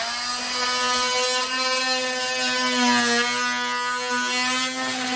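A baseboard is scored along its length before being pulled off during a lower kitchen cabinet installation, giving a steady, close, buzzing power-tool whine that runs unbroken with slight swells in intensity.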